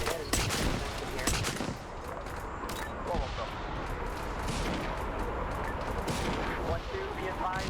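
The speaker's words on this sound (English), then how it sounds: "artillery is going to keep firing smokes onto that gatehouse" Artillery fires smoke rounds onto a gatehouse in a military video game, heard as a continuous mix of booming shots and gunfire crackle at moderate level, with talk over the radio running underneath.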